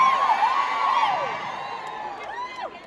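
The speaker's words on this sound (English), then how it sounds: "New York is always the best crowd, man" A concert crowd in New York cheers and whoops, with high shouts and wavering calls rising over a continuous roar that fades slightly toward the end.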